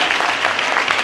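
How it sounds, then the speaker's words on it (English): Steady applause from a quiz audience greets a competing school team, a continuous dense clapping wash filling the short moment. "a round of applause for UPSS"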